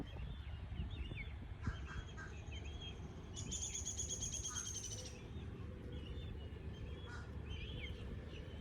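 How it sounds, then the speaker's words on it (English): Wild birds call outdoors in nature, a few short scattered chirps and one brief trilled burst over a faint, steady wind-like background hiss. "I love watching the birds."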